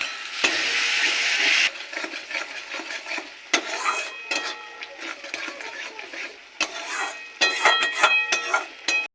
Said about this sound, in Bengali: ভালো করে কষিয়ে নেব দেব অল্প একটু বাটি ধোয়া জল দিয়ে কষিয়ে নেব